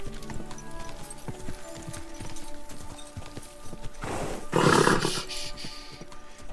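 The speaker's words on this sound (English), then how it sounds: "Easy, good horse." Horse hooves clip-clop steadily in Kingdom Come: Deliverance 2, a medieval open-world game, with a louder burst of hoofbeats and movement near the end over constant game ambience.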